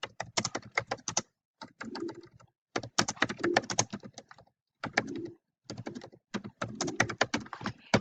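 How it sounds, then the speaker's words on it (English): Fingers type on a computer keyboard in bursts of quick, close clicks, with short pauses between the runs and a single tap of the tab key among them. "we need to hit the tab key once"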